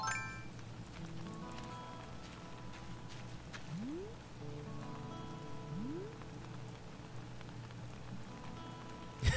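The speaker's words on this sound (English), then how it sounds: "Oh, we need our umbrella. It's raining." Rain falling in the video game Animal Crossing: New Horizons, a soft, steady patter of drops with a couple of faint rising chirps in the background and no voices.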